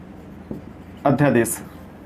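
A teacher writes on a board during a lesson, giving a soft tap and then a run of scratchy, rubbing strokes that end in a brief squeak. All of it is close and fairly quiet.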